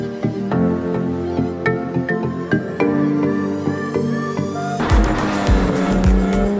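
A GT3 race car driving hard on a circuit, loud and close, its engine revving and shifting through rising gears, then a burst of rougher, noisier tyre and road roar.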